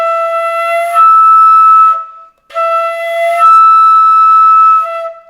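A wind instrument sounds a sustained multiphonic with bright stacked overtones, played with fast air so it jumps to the top note; two loud held tones separated by a brief gap, alone without talk.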